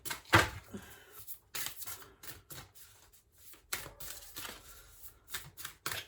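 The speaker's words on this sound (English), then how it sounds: "can I have a couple more cards to finish off the reading" Tarot cards are shuffled by hand in quiet, crisp bursts of riffling and flicking, with short pauses between the bursts and no talking.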